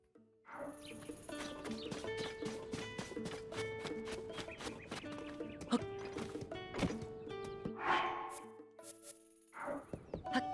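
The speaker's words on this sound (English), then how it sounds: "Looks like you caught yourself a steed." A horse in Zelda: Tears of the Kingdom whinnies and snorts over clip-clopping hooves, set against a bed of game music with birdsong and rustling, moderately loud and close.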